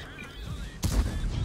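Tank gun firing in World of Tanks, a single sharp blast midway through that booms loudly and then rumbles briefly, set against low background noise.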